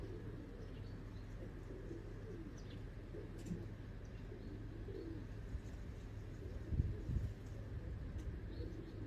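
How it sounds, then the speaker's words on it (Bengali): A female golden home-bred pigeon makes low, soft cooing close by in a quiet room, faint overall with a slightly stronger burst of coos near the end. "একেবারে ঠান্ডা একটা কবুতর"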